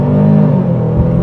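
A Genesis GV70 SUV launches hard from a stop in sport mode, its engine note loud and close, climbing in a strained, rising drone over a brief burst.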